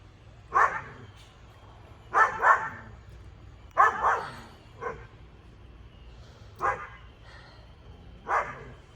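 A dog barks in scattered single and double barks spaced a second or two apart, moderately loud and a little distant, over a low steady background hum.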